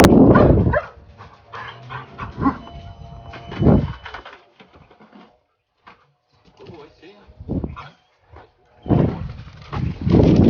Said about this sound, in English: we're just going to put the dog collars on the dog.